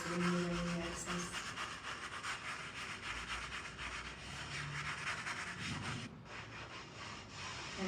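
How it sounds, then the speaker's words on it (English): Gold leaf on artwork panels is rubbed and burnished to clear away the excess, a continuous close scratchy rubbing that keeps a steady level throughout with no pauses. "And burnishing the panels."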